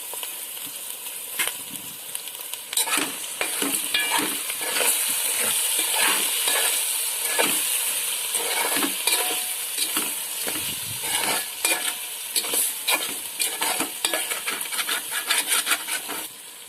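Spoon stirring a tamarind-flavoured taro and egg curry in a pot after rock salt and chilli powder go in, with steady scraping and clinking over a continuous sizzle throughout, close and fairly loud.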